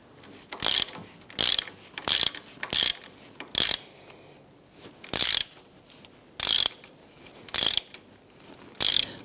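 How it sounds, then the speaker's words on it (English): Ratchet clicks in short sharp bursts as a bolt is tightened into a Jeep Wrangler track bar, about eight distinct spaced strokes close to the mic with quiet gaps between them. "use our ratchet to go ahead and get that bolt caught in there"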